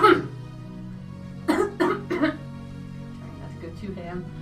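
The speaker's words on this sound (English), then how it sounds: "I just felt like I needed to cough" One sharp cough opens, followed by a quick run of three close coughs. Fainter throat sounds trail off after them.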